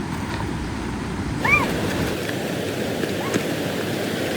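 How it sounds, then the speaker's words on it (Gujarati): Steady rushing water fills the scene, a broad continuous wash like a flowing creek, with a couple of faint high chirps riding on top. "એકદમ પાણી તો જો કેવું ચાલે છે"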